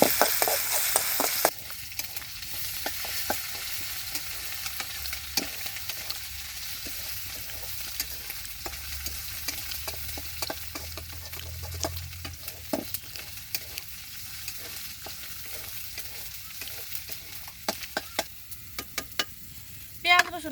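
Garlic, onion and jackfruit fry in a pan with a steady low sizzle, broken by scattered clicks and scrapes of stirring throughout.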